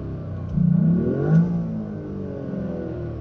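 A Toyota GR Yaris engine revs sharply, rising to a loud peak and falling back, then settling into a steady idle close by.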